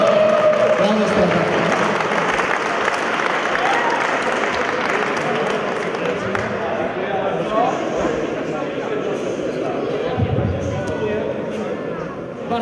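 Applause and crowd cheering at an outdoor tournament prize ceremony as the first-place fire brigade team is called up, steady and loud throughout with an announcer's voice over it.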